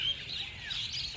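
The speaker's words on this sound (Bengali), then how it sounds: "আর শুধু ডাকছে, কিচিরমিচির আওয়াজ করছে" Continuous bird chirps and tweets with a few rising calls, heard against faint background noise, nobody speaking.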